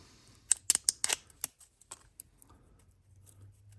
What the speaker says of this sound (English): that's just vinyl. And so I'm just gonna peel it off